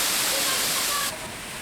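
A broad, steady roar of water crashes down a tropical waterfall where children swim and dive, loud and continuous before dropping slightly quieter near the end.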